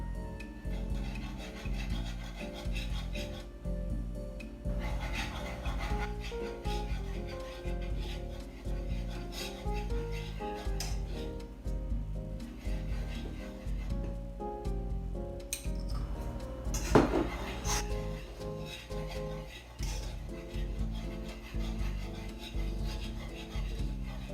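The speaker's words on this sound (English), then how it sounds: "I'm going to whisk this good enough to get all the lumps out." A whisk scrapes and rubs steadily around a pot, working lumps out of a sauce base for homemade mac and cheese, with faint clinks against the metal and one sharper knock partway through.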